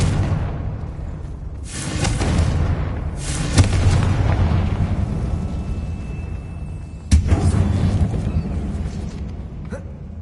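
A Confringo fire spell bursts in Hogwarts Legacy inside a closed tomb, with a couple of loud booming blasts over a rumbling game backdrop, one sharp crack near the middle and another around seven seconds.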